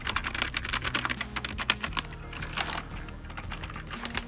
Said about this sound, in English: But it's a mechanical keyboard.